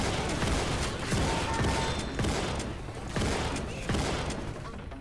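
Rapid bursts of gunfire from the Left 4 Dead video game, with repeated sharp shots in quick volleys that run steadily through the whole stretch and stay loud and close.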